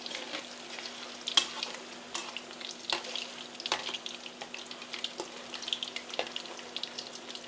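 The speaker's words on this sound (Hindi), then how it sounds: "बस आधा एक बार आपने फ्राई करना है और आधा जो है ना दूसरी बार में" Food sizzles and crackles in a pan for a homemade Chinese dinner. The frying is close and steady, with irregular pops and stirring scrapes, and no one talks.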